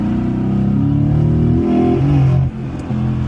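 A Mercedes-AMG GT S fitted with a prototype VRP intercooler revs hard and close, its loud, steady engine note climbing before it drops suddenly and then picks back up.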